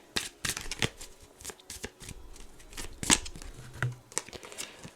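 Tarot cards being shuffled by hand, a run of quick papery riffles and flutters with sharp card snaps, fairly close and moderately loud, no talking over it.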